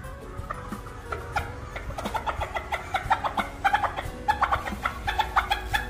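Northern Vietnamese bantam chickens (Gà Tre Bắc) cluck close by, with scattered calls that quicken into a rhythmic run of sharp, repeated clucks growing louder toward the end.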